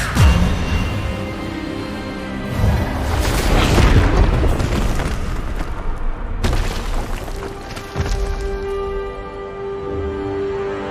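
The Expelliarmus spell goes off in Hogwarts Legacy as a loud booming blast with a crackling burst, then a sustained rumbling magical wash with a second sharp impact partway through, no voices.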